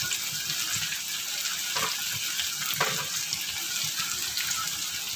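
Ginger garlic paste and tomato fry in a pan for a chana masala, a loud, continuous sizzle with a couple of brief stirring scrapes, close up and uninterrupted.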